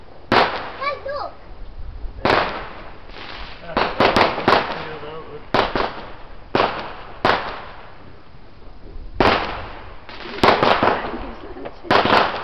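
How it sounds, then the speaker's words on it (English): Fireworks and firecrackers go off outdoors in a series of sharp bursts and crackling volleys spaced irregularly over several seconds, loud and fairly close, with people talking in between. "There's fireworks here, Jack."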